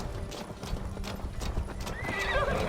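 In Assassin's Creed Valhalla, a horse's hooves clop steadily up close, then the horse lets out a rising whinny over continuous game ambience.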